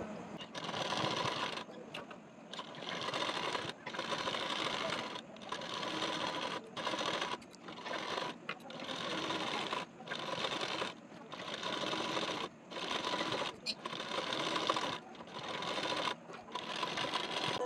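A sewing machine stitches a folded neck binding strip onto a blouse in quick, close bursts, its rapid whirring broken by short pauses as the fabric is repositioned.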